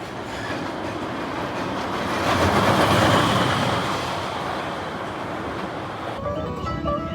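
The Shockwave roller coaster train rumbles past close by, a broad roaring wash of wheels and track noise that swells to a peak midway and then fades away.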